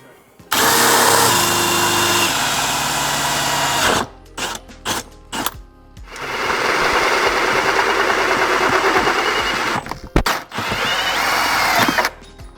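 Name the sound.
power drill drilling hole through van floor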